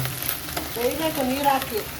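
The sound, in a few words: drumstick leaves sautéing in a pan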